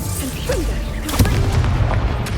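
A Confringo blasting curse explosion in Hogwarts Legacy, a dense booming burst with broad crackling energy that swells near the middle and stays loud over a rumbling, busy game soundscape.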